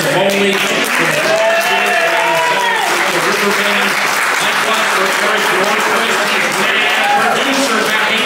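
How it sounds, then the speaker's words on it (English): A crowd at a live sports radio broadcast at a restaurant in Oakdale, Minnesota bursts into loud, sustained applause with dense clapping and cheering throughout, some voices rising from the crowd. "Ladies and gentlemen, a round of applause for Jared Wells"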